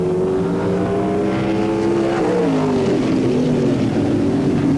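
A 1982 Bobcat ASCAR race car engine roars steadily at close range, the pitch bending and shifting as it revs and changes gear, with a continuous loud drone throughout.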